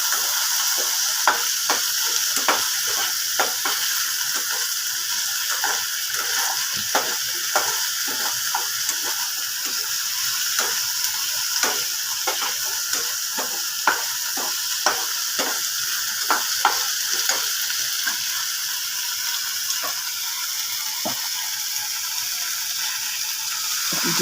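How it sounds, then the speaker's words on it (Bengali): Spiced dal masala fries in oil, stirred until the oil separates: a continuous sizzle broken by frequent spatula taps and scrapes against the pan, close and fairly loud. "ভালো করে নেড়ে নেড়ে কিছু তেল না বের হওয়া পর্যন্ত কষাবো।"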